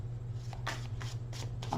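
A deck of tarot cards is shuffled up close, giving a few quick papery riffles and flicks over a low steady hum.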